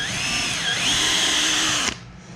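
A power drill whines steadily and loudly as it bores a pilot hole where two willow branches meet on a hoop, pitch dipping briefly under load before stopping abruptly.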